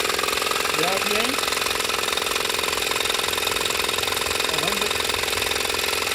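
A linear gear drive engine prototype runs with a constant, dense mechanical rattle and hum, close and loud, while someone speaks briefly over it.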